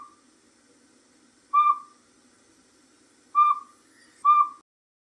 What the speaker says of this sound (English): Select the northern pygmy owl.